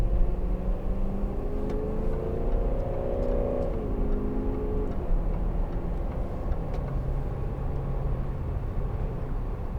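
A 2012 Range Rover 4.4 TDV8 Westminster, a heavy luxury SUV carrying passengers, accelerates hard with a steady diesel engine drone whose pitch rises through the gears, heard from inside the cabin with no talking.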